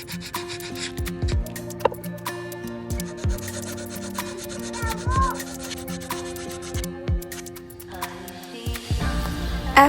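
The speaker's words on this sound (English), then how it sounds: "After I sanded the failed finish off the feet" Sanding the failed old finish off the feet of an antique table, a steady close rubbing and rasping that runs throughout with small knocks and ticks mixed in.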